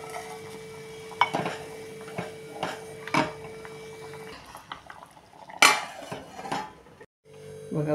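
Utensil scraping and clinking in a metal pot as barnyard millet (vari) is stirred into boiling water, several distinct knocks over a steady background hum, close and fairly quiet.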